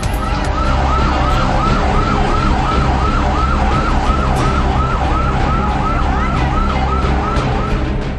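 Emergency vehicle sirens wail continuously at a fire where five fire engines, municipal water tankers and Indian Air Force chemical units fight the blaze, a loud, close, repeating rising-and-falling siren over a steady road-traffic rumble.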